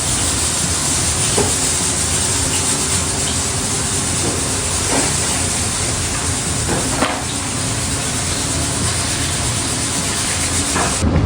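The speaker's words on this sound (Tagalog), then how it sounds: "ipiprito ko na po muna itong mga saging" A steady, loud sizzling hiss of saba bananas frying in hot oil, continuous throughout with faint crackles and pops.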